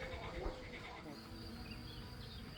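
A steady, faint buzz of honeybees around hives drones continuously, like bees swarming nearby, with low background rumble and no clear breaks.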